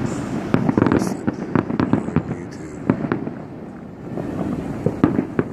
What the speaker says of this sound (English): These are the fireworks for 2016 coming in.